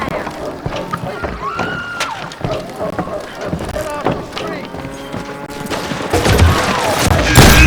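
Repeated gunshots from the video game Call of Juarez Gunslinger crack in sharp bursts throughout, with a denser volley toward the end, while a player talks over the gameplay.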